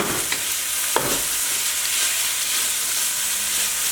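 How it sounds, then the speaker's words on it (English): Snow peas and green onion stir-fry in a wok, giving a bright continuous sizzle with a couple of quick utensil scrapes near the start. "Now I'm going to add these snow peas and also this green onion and kind of mix that in."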